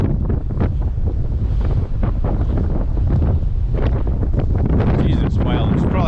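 Strong gusting wind beside the River Spey in Scotland batters the microphone in heavy buffeting bursts, with rushing water faintly beneath and a voice speaking briefly toward the end.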